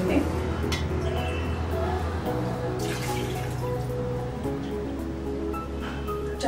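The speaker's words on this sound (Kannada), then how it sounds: "ನೀರು ಹಾಕ್ತಿದ್ದೀನಿ." Water is poured into a pot of chickpea flour mixture for junka, a soft steady splashing and trickling over a low background hum.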